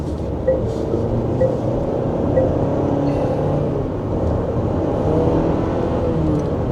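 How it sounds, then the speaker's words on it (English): Steady, loud road and engine drone from an SUV at highway speed on a test drive, strained as it tries to gain speed, with heavy low rumble throughout and no talk. "at highway speed, the engine screams a little while trying to get up to speed."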